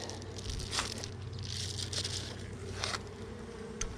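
Honey bees buzz constantly inside a hive, a dense, close droning swarm, with occasional rustles and brief scrapes over the steady hum.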